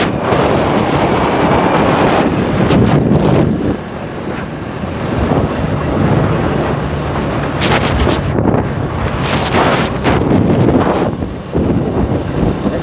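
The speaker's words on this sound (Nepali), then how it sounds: "एकदमै धेरै हावा चलिरहेको होला, आवाज सुनिरहेको छ।" Strong wind roars into the microphone during a motorcycle ride from Koshi Bridge toward Chaudandigadhi in Nepal, a loud steady buffeting rush that swells and dips throughout with no talking.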